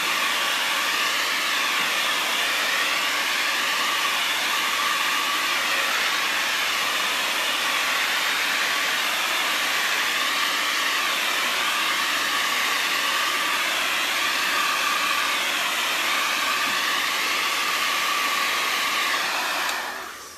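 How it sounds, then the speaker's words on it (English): A hair dryer blows steadily at close range, a loud continuous whooshing hiss with a slight wavering whine, cutting off at the very end. "you can just hit it with the blow dryer"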